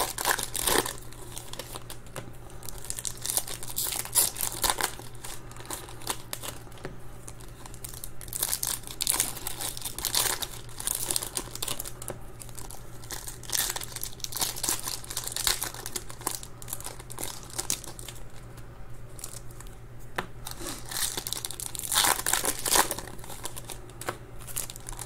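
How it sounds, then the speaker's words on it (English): Foil wrappers of 2021 Topps Pro Debut baseball card packs crinkle and tear while being ripped open, a close, continuous rustling that swells and fades throughout with no talking. "These packs don't like to rip open gracefully."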